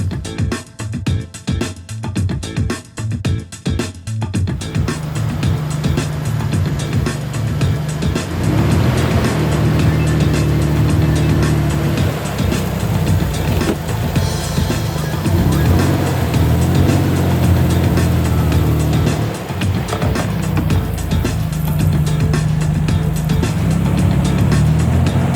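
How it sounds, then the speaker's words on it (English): A truck engine idles, then revs and grinds with a steady drone as it drives up and over recovery boards on both tires, loud and continuous, with no one talking. "I'm gonna basically bring the truck around, drive up and over it, probably try and do both tires."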